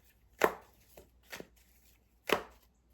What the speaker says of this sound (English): Going to lower the camera and finish shuffling.